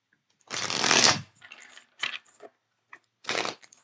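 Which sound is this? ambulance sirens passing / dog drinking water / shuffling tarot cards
shuffling tarot cards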